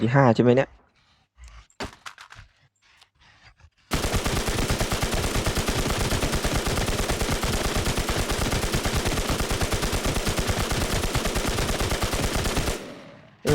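An RA H23 gun fires at a boss in the game Infestation: after a few quiet seconds with faint clicks and a short voice, a long unbroken stream of rapid automatic fire roars loud and close for about nine seconds before stopping abruptly.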